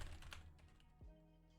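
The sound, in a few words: typing on a computer keyboard, guessed Logitech or Corsair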